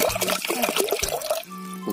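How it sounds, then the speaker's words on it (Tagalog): Water poured into a pot for fish soup, short splashing and trickling bursts close by, ending in a steadier pour. "So ngayon lagyan muna natin ng tubig para sa sabaw."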